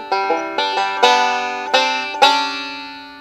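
A banjo picks the chorus of the gospel tune I'll Fly Away in bluegrass style, with bright, crisp plucked notes and rolls ringing close and clear, alone without talk.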